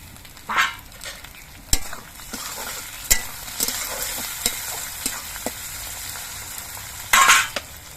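Chopped tomato pieces going into frying onions for a tilapia curry, a continuous oily sizzle with scattered spoon knocks and a louder burst of scraping near the end, close with no talk.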